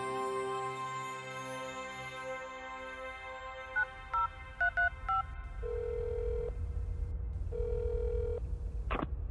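In a French audio drama, a telephone is dialed with a short run of button tones, then rings twice in long electronic bursts, heard alone at moderate volume against a faint low hum.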